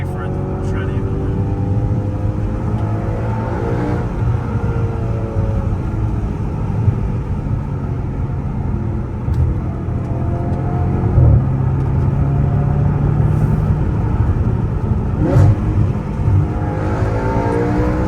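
Audi RS5 with a 4.2-litre V8 driven at night, its engine droning steadily from inside the car and rising in pitch through several accelerations.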